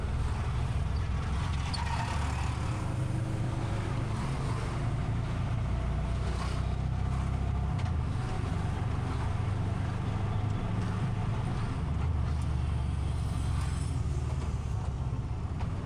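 A freshly serviced auto rickshaw on a trial ride after its wheels were cleaned and refitted, a steady engine drone and road rumble from inside the vehicle with no talk.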